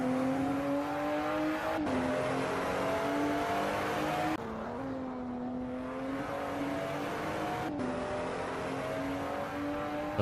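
Simulated race car engine in a sim racing video game at the Red Bull Ring, revving loud and steady with sharp upshifts and dips in pitch as it runs a fast lap, no talk over it.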